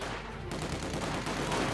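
Dense, continuous gunfire crackles with rapid bursts in a Company of Heroes 2 battle, where assault cannons engage infantry at range, loud and unbroken throughout.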